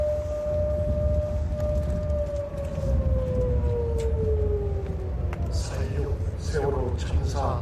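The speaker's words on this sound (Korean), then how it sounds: "뭐 사이렌 울리는 거야?" A long, steady siren wails over a crowd and a public-address voice at an outdoor memorial ceremony for the Sewol ferry disaster in Ansan, its pitch slowly falling as people talk nearby.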